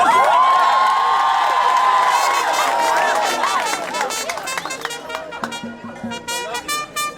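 Students at a Ghanaian senior high school cheer loudly for arriving champions, a sustained crowd roar of shouts and whoops that fades into scattered chatter and rhythmic clapping.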